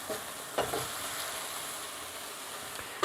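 Flank steak sizzles in a pan over medium-high heat, a steady, moderately loud frying hiss that runs throughout, with a couple of faint clinks.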